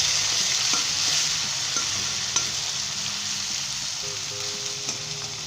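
Tomatoes frying and sizzling in ginger-garlic oil in a karahi while being stirred, a steady close hiss with occasional scraping stirs and no talking.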